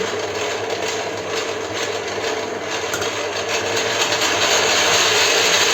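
Electric mixer whipping butter with a custard mass for Spartak layered cake cream: a steady, close whirring drone that runs without pause and grows slightly louder toward the end.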